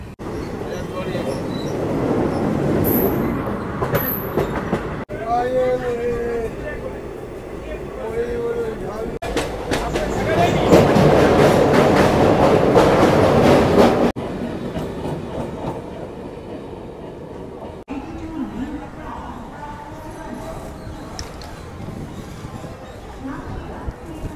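Tista Torsa Express passenger train from Sealdah bound for New Alipurduar, rumbling and rattling steadily along the rails with occasional clacks, heard from inside a carriage with people talking in the background.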